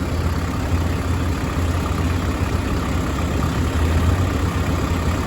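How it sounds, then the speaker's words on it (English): A four-wheeler ATV engine runs steadily close by on a hay bale, a loud continuous low rumble with slight swells in throttle and no talking. "Jordan, she's over here doing the same thing, trying to tear up the four-wheeler on the second bale"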